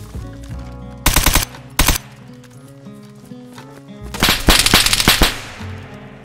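Bursts of automatic gunfire in the survival game DayZ: two short volleys early, then a longer, louder stretch of rapid shots near the end, over a steady music-like backdrop.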